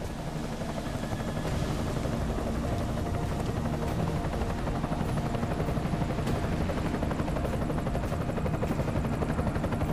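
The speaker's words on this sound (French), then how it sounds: "Hélico ennemi en vue." An enemy helicopter in the video game Deus Ex: Mankind Divided drones steadily with a loud, continuous rotor roar, close and unbroken throughout, with no talk over it.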